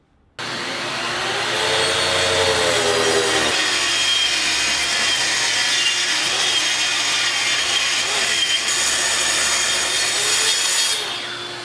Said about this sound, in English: the goal was to get as deep as we could with the Craig track saw and then come back with the jigsaw to finish up that cut